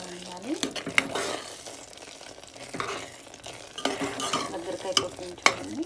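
Ghee frying in a pan while a spoon stirs it, with intermittent scraping and sizzling bursts across the clip and some faint background voice.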